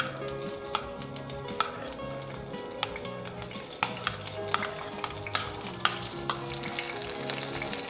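Garlic sizzles and crackles in hot oil in a pan and is stirred with occasional sharp clinks, a steady close frying hiss under soft background music, with no talking.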